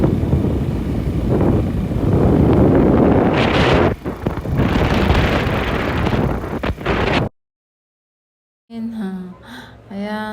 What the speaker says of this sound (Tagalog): Mahangin talaga yan guys, oh.